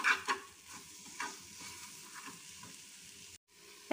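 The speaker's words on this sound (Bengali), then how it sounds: "মশলাটা ভালো করে কষিয়ে নেব" Spice masala for a fish curry fries and is stirred in a pan, with soft sizzling under scraping spoon strokes, quiet and close, with no talking.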